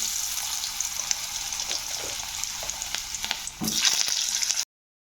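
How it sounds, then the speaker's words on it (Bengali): Potatoes fry in hot oil left from frying lentil dumplings, a steady sizzle with stirring scrapes that grows briefly louder near the end before cutting off abruptly. "ওই তেলে ভেজে নেব আলু"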